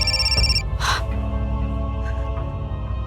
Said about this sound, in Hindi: कौशिक, मैं कब से फोन कर रही हूँ, फोन क्यों नहीं उठा रहे थे?